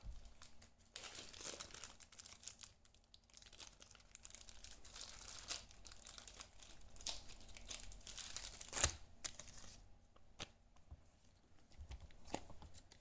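Trading card from a Dragon Ball Miracle Battle Carddass booster box slid into a plastic sleeve: soft, close crinkling and rustling of thin plastic, continuous with a few sharper crackles, no talking.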